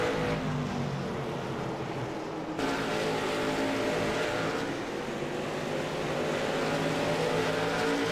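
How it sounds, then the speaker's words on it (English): Stock race cars drone steadily around the track, a continuous engine roar with a slight shift partway through, no talk over it. "Ricky in the 118 machine is putting all kinds of pressure on Zach"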